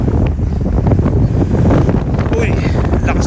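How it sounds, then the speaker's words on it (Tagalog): Strong wind buffets the microphone during a night jog outdoors, a loud, continuous low roar that gusts throughout with no pauses. "Uy, lakas ng hangin ah."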